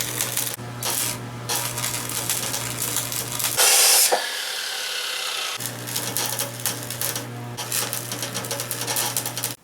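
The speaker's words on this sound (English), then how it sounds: "And now I'm just going to tack these 2 corners" Tack welds join corners of a cargo carrier built from scrap steel: a steady buzzing arc with crackling spatter runs in two bursts, broken by a short harsh burst and a quieter pause between, close up.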